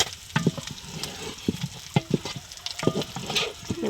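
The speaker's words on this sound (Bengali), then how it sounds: "মাংসটা আমি সুন্দর করে মাখাইয়া মানে মশলাটার সাথে মিলাই নিছি।" Beef being stirred and mixed with turmeric and spices in a pan, a soft sizzle under repeated scraping and wet thumps of a spoon, close and irregular, with no speech.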